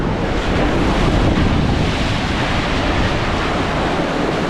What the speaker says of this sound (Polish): Coś zbierają fale